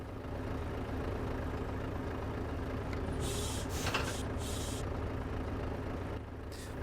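A steady, low engine rumble from a modified Volvo FH16 in Euro Truck Simulator 2 idles throughout, broken by several sharp bursts of hissing air like brakes releasing.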